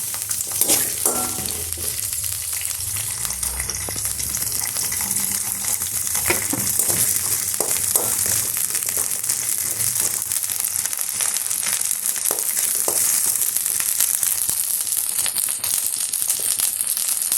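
Shallots frying in oil in a pan as the base for a paneer gravy, with a steady close sizzle and occasional stirring scrapes throughout, no voices.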